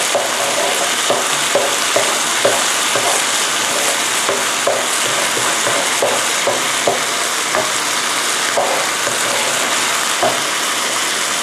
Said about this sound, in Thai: แล้วเราก็จะใช้ ตะหลิวนะคะ ขยี้แบบนี้